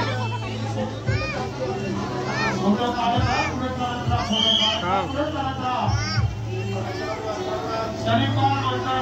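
A dense crowd around the Shanipar Ganpati festival decoration in Pune, with a continuous babble of many voices, children's chatter and shouts close by, and people talking throughout.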